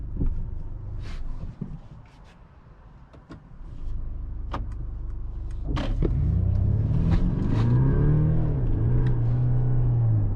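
A 2024 Mercedes GLC Coupe AMG accelerating hard in sport mode, a low engine rumble rising in pitch through the gears, heard from inside the cabin after a few quieter clicks and knocks.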